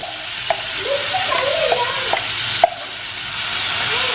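Mustard seeds, curry leaves and dried red chilies sizzling in hot coconut oil, a dense steady hiss with a few sharp crackles and pops, close and loud, no voices.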